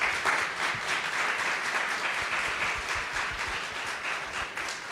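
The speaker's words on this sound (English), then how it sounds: "please give a round of applause to these speakers" Audience at a Diverstech 2025 tech conference panel claps for the speakers, a steady mid-sized round of applause that stays even and fairly close for several seconds.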